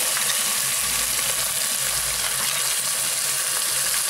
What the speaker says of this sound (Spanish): Ya tengo toda una fritura muy uniforme y voy a agregar el ají colorado.